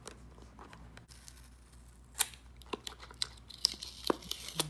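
Tape tears from a Nokia 8110 4G phone box in a quiet room, with several short rips and crinkly crackles that grow sharper and more frequent toward the end.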